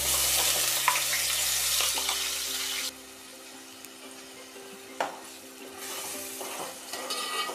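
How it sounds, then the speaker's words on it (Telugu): Onion paste sizzles and fries in a pan on a medium flame, a loud bright hiss at first that drops to a softer steady crackle, with a couple of utensil knocks and stirring scrapes. "ఈ ఉల్లిపాయ పేస్ట్ చక్కగా వేగాలండి."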